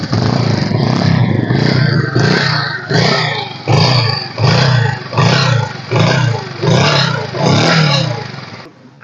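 A 2018 Bajaj Pulsar 150 with a carburetted engine runs close by in a loud, throaty idle that swells in repeated blips of the throttle, about a dozen pulses across the clip.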